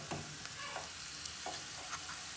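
Hot tempering (chhaunk) is poured over dhaba-style chana dal with spinach, producing a soft, continuous sizzle with light crackles and pops, close and unaccompanied by speech.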